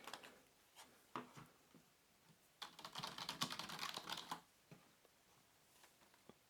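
Quiet typing on a Logitech K400 Plus wireless touch keyboard with scattered soft key clicks, then a dense burst of rapid keystrokes in the middle before it slows to a few isolated taps.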